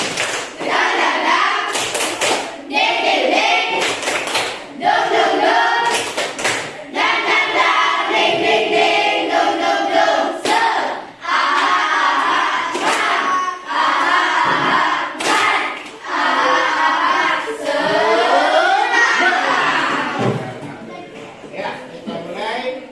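A class of children performs a rhythmic group chant punctuated by bursts of hand clapping during a classroom lesson, loud and close, with voices shouting and singing throughout.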